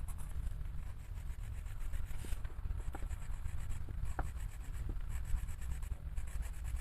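Colored pencils scratching and stroking across paper in a quiet room, soft continuous scraping with short repeated strokes and faint taps, close and gentle.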